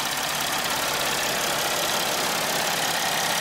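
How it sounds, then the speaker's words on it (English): Mercedes Sprinter diesel engine idling smoothly after a cylinder misfire repair, an even, steady running drone heard close and alone with no speech. "So as you can hear, the engine sounds great. The engine is not shaking."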